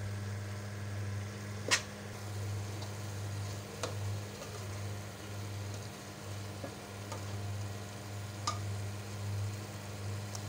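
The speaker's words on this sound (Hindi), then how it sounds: "अच्छी तरह इसको भूनेंगे" Minced meat with spices frying in a pan gives a faint, steady sizzle with a few sharp ticks of stirring over a constant low hum, no speech.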